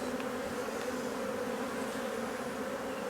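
Honeybees hum steadily over a hive frame of drone brood, a continuous close, even buzzing drone with no pauses and no talk.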